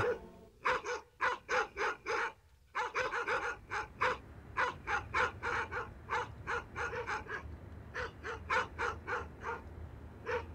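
Several dogs bark in steady, rapid volleys at a hunting horn festival held on a racecourse, loud and close, with the barking running almost continuously.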